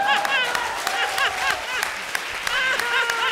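A comedy show audience gives a standing ovation, dense continuous clapping with whoops and cheers over it, and voices can be heard through the applause.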